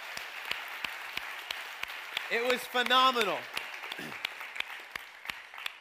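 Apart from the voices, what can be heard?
applause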